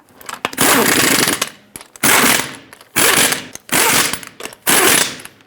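An impact wrench on a Subaru Crosstrek wheel runs in five loud, close bursts, tightening the lug nuts one after another with short pauses between each rattling hammer run.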